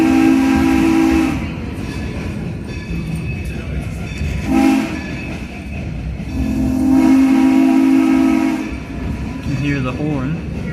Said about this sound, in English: That unusual whistle signal that you've heard coming from our train's engine is Morse code for the letter Q